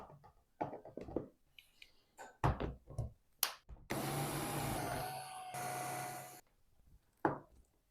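A blender whirs loudly for a couple of seconds, whipping a thick liver spread for a liver roll filling, framed by scattered knocks and clatter of utensils before and after.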